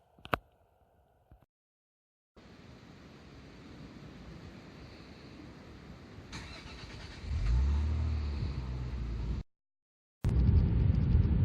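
Car interior engine and road noise from a 2004 MG ZT-T 190, a steady hum that grows louder with deeper rumble mid-way, broken by brief silent cuts.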